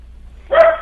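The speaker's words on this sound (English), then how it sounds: "There's somebody at my door and my dog went nuts." A single short, sharp dog bark rings out near the microphone in an otherwise quiet room, set off by someone arriving at the door.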